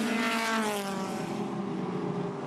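Improved production race cars, a Mazda among them, run on the Hidden Valley circuit, their engines a loud, sustained whine that rises and then eases as they pass, heard from fairly close with no voices.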